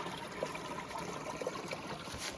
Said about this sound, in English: you can hear the water flowing underneath the ground.